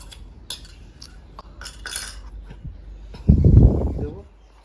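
A spoon scrapes and clinks against a bowl while gram flour and corn flour go in: light, scattered kitchen clatter, then a louder, heavier knock and scrape near the end, close by, with a voice faintly in the background.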